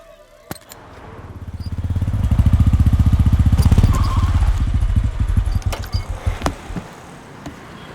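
A black Pulsar motorcycle engine revs up and throbs steadily at close range, then eases off into an uneven, sputtering idle, with a few faint sharp knocks over the top.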